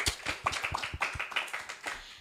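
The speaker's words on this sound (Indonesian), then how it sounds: "Tepuk tangan!" Audience applause at a school scout event in Indonesia: a small group claps in quick, uneven bursts, close and moderately loud, lasting just a couple of seconds.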